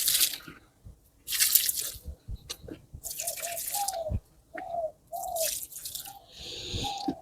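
Water splashing and dripping while plants in a village garden are watered, with repeated bursts of pouring and trickling separated by brief quiet gaps, close by with no voices.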